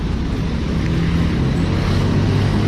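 A Bajaj Maxima auto-rickshaw engine runs in Malanay, Sta. Barbara, Pangasinan, giving a steady, loud, close-up rumble that holds evenly throughout with no voices.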